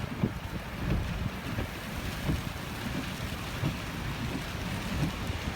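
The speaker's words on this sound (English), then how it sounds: "It's so windy, so rainy." A storm with big waves: strong wind roars steadily with rain pattering throughout, low gusty rumbles buffeting the microphone and rising in bursts, loud and close.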